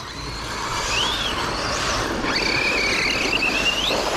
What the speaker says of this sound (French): J'entends les pneus qui patinent à l'accélération.